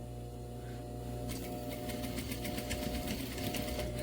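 A sewing machine stitches face mask elastic, starting up after a moment of motor hum and then running in a steady, close, rapid needle rhythm.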